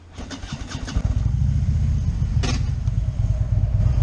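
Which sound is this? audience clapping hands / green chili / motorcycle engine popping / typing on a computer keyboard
motorcycle engine popping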